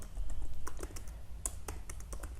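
Keys clicking on a computer keyboard, a quick irregular run of light taps at close range over a low background hum.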